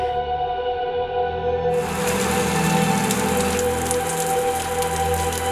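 Heavy rain pours down at night in a forest graveyard, a dense, constant hiss of drops on surfaces that thickens and grows louder partway through.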